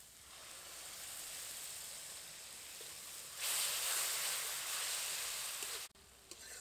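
Banana blossom kofta mixture frying with tomato paste in a Bengali village kitchen gives a steady soft hiss that grows louder and brighter midway, then cuts off sharply near the end, with no voices.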